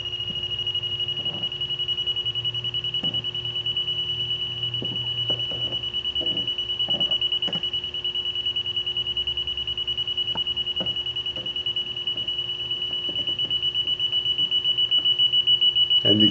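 A leak detector's steady high-pitched electronic alarm tone sounds continuously, with scattered clicks and faint handling noises underneath and a low hum.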